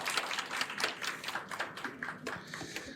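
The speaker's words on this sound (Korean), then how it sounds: "다시 한번 박수 부탁드리겠습니다" A seminar audience on small-scale farming and organic recycling claps, with distinct individual hand claps in an irregular patter from a modest crowd, fairly faint in the room.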